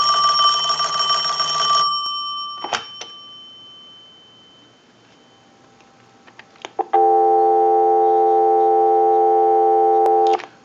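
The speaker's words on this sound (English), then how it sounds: "we'll give you some dial tone" A Western Electric Princess telephone tone sounds briefly, then a few clicks. After a quiet pause a steady, unbroken dial tone hums for several seconds before cutting off with a click.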